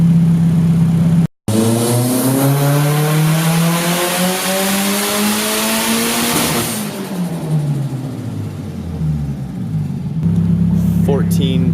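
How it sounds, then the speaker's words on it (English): A tuned Nissan 240SX notchtop with an SR20 engine revs hard under boost, loud and close, its pitch climbing steadily through a long pull before falling back to idle, with one brief cutout near the start. "So now we're gonna start adding some boost"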